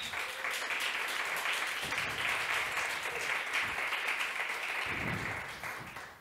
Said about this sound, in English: even more enthusiastic applause for our speakers than the first one